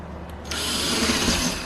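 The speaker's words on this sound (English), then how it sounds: "I'm gonna just drill it a little bigger." A power drill enlarging a hole for a van window whirs steadily after a brief quiet start, a close, continuous grinding buzz that holds for over a second.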